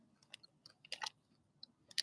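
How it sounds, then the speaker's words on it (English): Crispy fried chicken is chewed close up with sharp, irregular crunches and bites over about two seconds, quiet between the louder crunches. "So much crunchier than that. Good ass crispy chicken."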